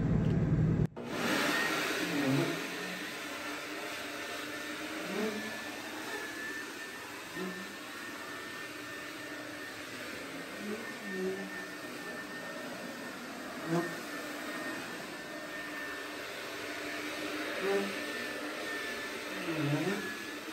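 A homemade hovercraft's engine runs steadily for the whole stretch, a loud droning roar with a whining tone on top, plus occasional small thumps and bumps, with no talking.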